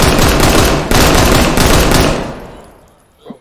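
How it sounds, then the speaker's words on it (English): Rapid automatic gunfire in the video game Zero Hour, loud continuous bursts for about two seconds that then fade away, ending with a faint short knock. "Who shot me? Ooh. Is that a Glock?"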